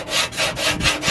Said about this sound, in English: high spots are getting sanded with no problem